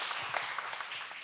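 Brief applause from the audience at a Korean public-safety emergency research meeting, welcoming a presenter: a short, even burst of many hands clapping at moderate level.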